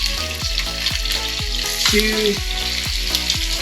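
Spam slices frying in oil in a pan, a steady loud sizzle throughout while a man counts aloud over it.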